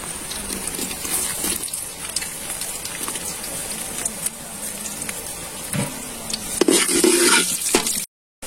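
Cashews and raisins fry in coconut oil for a village-style tender coconut payasam, a steady close crackling sizzle with stirring scrapes throughout and a brief louder burst near the end.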